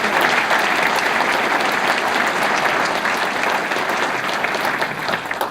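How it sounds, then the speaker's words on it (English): A crowd at a Murray State University engineering and physics building dedication breaks into loud, sustained applause, a thick, even wall of clapping that tapers slightly at the end. "Round of applause for her hat."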